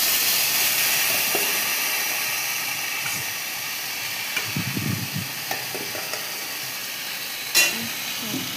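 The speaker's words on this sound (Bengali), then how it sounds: "এখন দিয়ে একটু ভালো করে কষিয়ে নেবে।" Mixed vegetables with ginger paste stir-fry in a pan, giving a steady sizzling hiss throughout with occasional scraping stirs and a brief clatter near the end.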